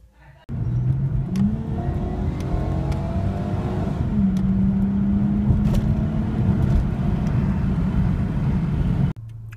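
A Toyota engine with its ACIS intake control disabled cranks and catches after a half-second of quiet, then runs loud and close, its pitch rising and settling through a couple of revs before cutting off abruptly near the end.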